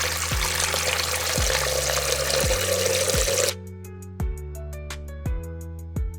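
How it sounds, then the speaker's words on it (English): Tap water streams steadily into a bowl for about three seconds as a potato is set to soak for crispy restaurant-style French fries, then stops, leaving a few close, sharp clinks against the bowl. "I am going to add 1 liter of water and I am going to soak this potato"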